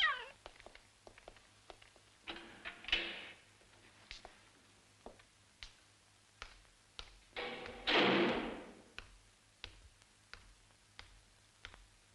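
A hungry cat in a French crime drama film meows twice, with long, loud, close cries several seconds apart, between soft ticking and tapping sounds that recur throughout.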